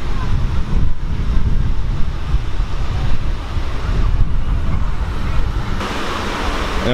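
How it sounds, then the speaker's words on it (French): Heavy wind buffets the microphone in a steady low rumble, with gusty bursts throughout and no clear voices. "je sais pas si vous m'entendez parce que le vent arrive"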